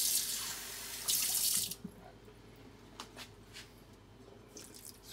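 Tap water pouring into a cup for a gooseberry preserve, a bright rushing stream for under two seconds that then stops, followed by a few faint drips and small clinks in a quiet room.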